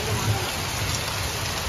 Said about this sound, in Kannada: ಒಳ್ಳೆ ಮಳೆ, ಆಳಿಕಲ್ಲು ಮಳೆ ನೋಡಿ. ಆಳಿಕಲ್ಲು ಬೀಳ್ತಾ ಇದೆ